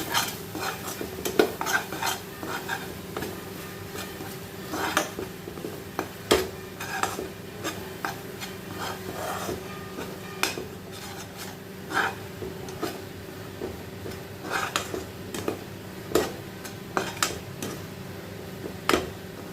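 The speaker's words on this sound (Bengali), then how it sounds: "যতক্ষণ না অবধি তেল ছাড়ছে আমি নাড়াচাড়া করে নেব।" Cabbage with salt and turmeric is stirred in an oiled pan, giving a soft sizzle under a long run of irregular metal spoon scrapes and clinks against the pan, close up with no talk.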